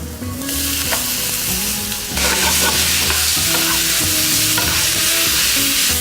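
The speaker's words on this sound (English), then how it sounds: "I'm just gonna brown that nicely for about 5 to 10 minutes first." Pork shoulder sizzles steadily as it browns in a pan over medium heat for Filipino menudo, with a continuous loud frying hiss, occasional spoon stirs and a surge in intensity partway through.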